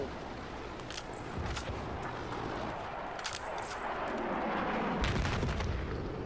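An A-10 jet makes a gun run in a military video game, a rumbling roar with scattered sharp cracks and booms of impacts that swell louder toward the end, heard at a distance.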